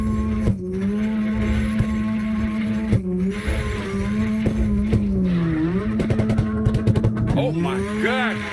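A steady engine drone from a drifting car in CarX Drift Racing online, with bursts of tyre squeal and screeching slides toward the end, under someone talking.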